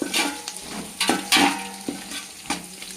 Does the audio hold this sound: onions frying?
yes